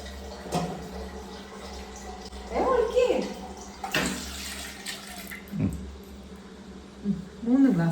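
Tea poured from a pot into glasses, a thin liquid stream trickling and splashing in short bursts, with people talking nearby throughout.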